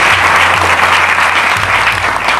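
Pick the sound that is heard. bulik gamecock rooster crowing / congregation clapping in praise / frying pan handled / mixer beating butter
congregation clapping in praise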